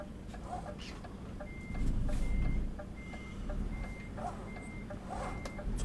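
A truck in Euro Truck Simulator 2 sounds a series of evenly spaced, high electronic reversing beeps over a low engine rumble and road noise.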